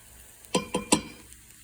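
Eggs are stirred in a frying pan with three quick, close scraping strokes in an even rhythm, over a faint sizzle and otherwise quiet surroundings.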